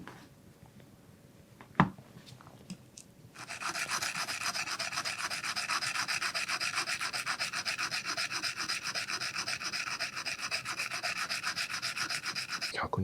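A round carpenter's gouge is rubbed on a coarse 120-grit whetstone, starting with a sharp tap, then a steady, fast rasping grind that runs close and loud without pause.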